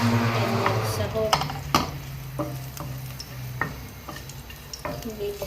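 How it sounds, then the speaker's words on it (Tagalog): Garlic and other ingredients sautéing in a hot pan, with a steady close sizzle broken by repeated stirring scrapes and clatters of the spoon. "Gigisa ko ang kanyang sahog."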